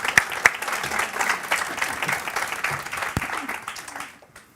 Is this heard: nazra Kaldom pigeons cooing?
no